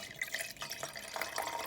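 Acetic acid poured into a glass beaker, a soft continuous trickling and splashing of liquid, faint and close, with no talking over it.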